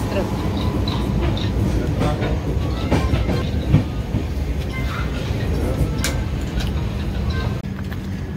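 A passenger train runs along the rails toward Murudeshwar station in Karnataka, with a steady loud rumble and clickety-clack throughout while people speak over it.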